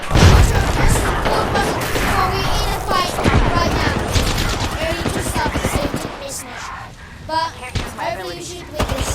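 Gunfire in the video game Apex Legends during a fight on a train, dense rapid bursts running through most of the stretch with loud impacts, mixed under steady talking voices.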